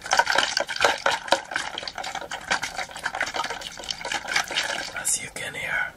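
Water poured and splashed for bubbly ASMR sounds, close and crisp, with irregular gurgles, drips and fizzing bursts and soft talking mixed in.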